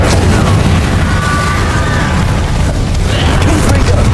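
Confringo blasting spell in Hogwarts Legacy, a loud, dense booming blast with crackling burst noise sustained throughout, near and heavy.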